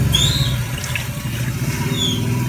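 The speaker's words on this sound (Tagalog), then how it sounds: "Lagyan po natin ng kunting tubig." Water poured from a tap into a cooking pot holding tuway clams being prepared for adobo, a steady close splashing flow with no talk.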